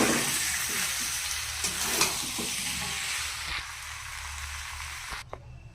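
Small potatoes and raw peas go into a pan of frying spices with a pinch of asafoetida, a soft steady sizzle with a few stirring knocks that fades and stops near the end.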